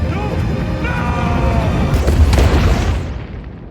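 A tunnel blows up in the Ant-Man and the Wasp film: one deep, heavy boom swells and rumbles for a couple of seconds, then fades out, with a voice faintly present.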